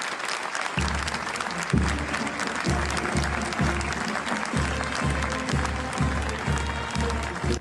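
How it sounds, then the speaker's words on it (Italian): Applause fills a church as a coffin is carried out at a funeral, a dense crowd clapping steadily throughout, with a rhythmic low thumping pulse running underneath. "Un applauso e silenzio"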